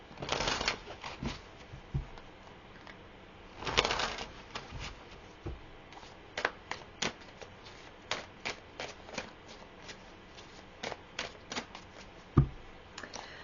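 Tarot cards being shuffled and pulled from a deck: close, crisp riffling bursts at the start and around the four-second mark, followed by scattered sharp flicks and taps as individual cards are drawn and laid down, with no talk.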